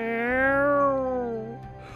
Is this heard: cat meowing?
yes